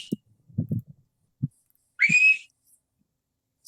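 A single short whistle for calling dogs in, rising then holding steady, sounds once, clear and close, amid scattered soft thumps and movement noises.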